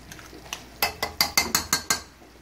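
Cream and two spoonfuls of cream cheese being stirred together, heard as a quick run of about eight sharp, close scraping clicks in an even rhythm, with no voices.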